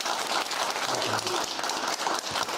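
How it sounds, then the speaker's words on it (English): Studio audience on a television talk show applauding, a dense continuous wash of many hands clapping at steady loudness, with faint cheering or voices mixed in. "Ladies and gentlemen, please big round of applause for Critical Drinker."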